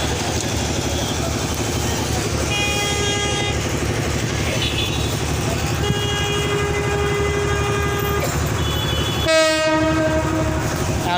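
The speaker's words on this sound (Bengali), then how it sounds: "এখন ট্রেনটা ছাড়বে, সময় হয়েছে মনে হয়।" A train rolls past close by with steady rumbling and clatter of wagons, sounding its horn in several long toots, the last one sharp and loud near the end.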